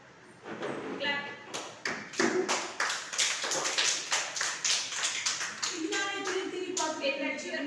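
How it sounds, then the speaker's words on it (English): Young children in a classroom clap their hands repeatedly and unevenly, a run of sharp close taps with a few voices speaking over them. "Clap."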